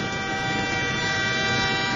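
Train horn in a Spanish radio drama, a steady sustained blast with dense tonal layers filling the whole stretch, loud and close with no speech over it.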